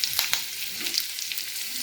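Curry leaves and sesame seeds crackle and sizzle in hot oil on a medium flame, a bright hiss with sharp pops near the start, close and steady, with no one speaking.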